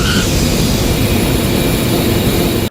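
A passenger airplane lands amid a loud, continuous roar of jet engines that stays steady and close throughout before cutting off abruptly.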